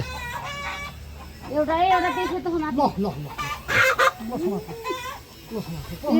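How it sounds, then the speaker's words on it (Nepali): Several roosters nearby cluck and let out strained crowing calls, overlapping loudly, with faint background noise between bursts. "हेर कस्तो कस्तो छन् भालेहरू"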